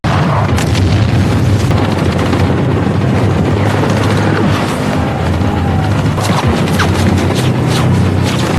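Loud, dense explosions boom one after another over a continuous rumbling roar, with crashing impacts throughout.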